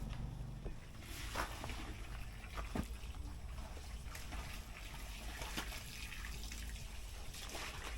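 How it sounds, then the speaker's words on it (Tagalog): Water running steadily outdoors as a man rinses off, with the runoff draining into a garden; a continuous splashing trickle with occasional louder spatters, fairly close and alone. "So, dito na lang nagbanlaw si Kuya."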